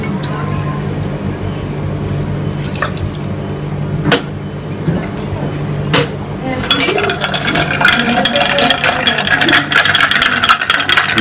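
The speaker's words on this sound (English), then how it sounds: "You have to mix it very well." Ice rattles and clinks steadily in a mixing glass as a heavy Fernet Branca and rye whiskey cocktail with Angostura bitters is stirred, a dense close chiming that builds and continues, with sporadic louder knocks and background noise.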